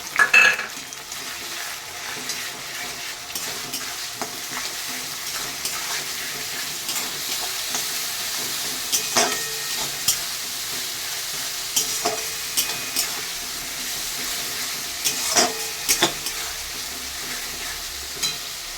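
Onion paste sizzling in a pan of already-browned onions for a pilaf and goat curry meal, with a soft continuous fry broken by scraping stirs and occasional spoon clinks against the metal.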